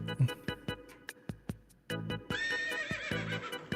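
A horse neigh sound effect: a loud, close whinny with a wavering, shrill tone, set over rhythmic clip-clop hoof beats.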